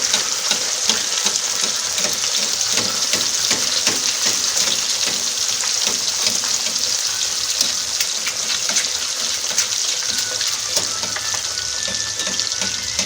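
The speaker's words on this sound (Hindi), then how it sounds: "अब हम इसको हल्का सा फ्राई करेंगे बस।" Fish pieces frying in a pan for fish masala, Pakistani style, over low heat: a steady, close, crackling sizzle of hot oil that runs continuously with no talk.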